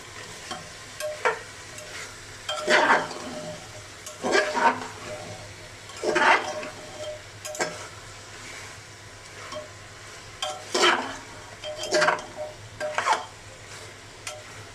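Chicken gizzard and liver being stirred and fried in a pan: a steady sizzle with repeated bursts of scraping and clattering from the stirring, close by, with no talking.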